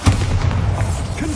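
Bombarda explosion spell cast in Hogwarts Legacy on PS5 Pro: a dense, booming blast with a low rumbling body that keeps rolling through the moment, loud and close, with no talk over it.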